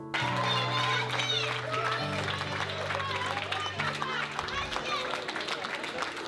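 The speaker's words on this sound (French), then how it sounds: "Applaudissements" An audience at a workshop on new-generation paper magazines breaks into loud, sustained applause that fills the room, mixed with crowd murmur and cheering.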